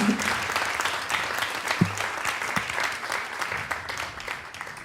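Warm audience applause at the Slovenska nota 2017 song contest final, a steady crowd of clapping hands that slowly tapers, with a brief low tone and faint voice murmurs underneath.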